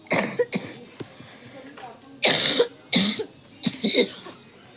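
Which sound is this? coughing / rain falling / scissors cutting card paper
coughing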